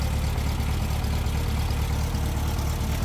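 Classic VW Beetle engine with a single-barrel Solex carburetor and oil-bath air filter, heard from behind the car, idling steadily with a low, continuous rumble throughout, no talking.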